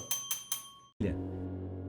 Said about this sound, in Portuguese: Por quantas horas seguidas eu posso ficar aqui tocando esse sino?